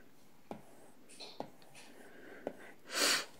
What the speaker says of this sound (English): sorry for the sniffles, it's winter right now and it's a little dry in here